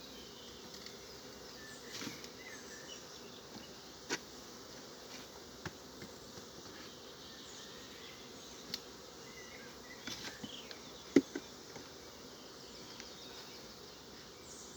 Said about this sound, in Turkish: Bu arada arımızın sakinliğini görüyorsunuz.